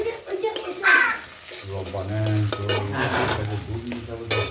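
Whole cumin seeds and garlic frying in hot oil in a pan, a steady sizzle with a few scrapes of stirring and clinks of a utensil, close up, with a low hum running underneath.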